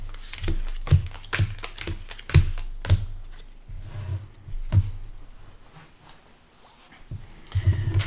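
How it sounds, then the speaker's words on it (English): Playing cards from an Exploding Kittens game being dealt onto a table, four to each player, a series of sharp close slaps and flicks at an uneven rhythm with quiet pauses between. "And then 4 cards are dealt to each player."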